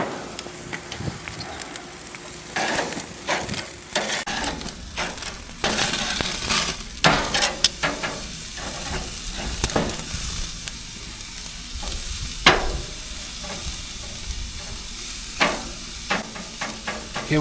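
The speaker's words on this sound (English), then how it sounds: "let's go ahead and let's flip those steaks" Steaks sear and sizzle steadily in a pan after being flipped, with repeated sharp scrapes and clinks of a utensil against the pan breaking through the constant hiss.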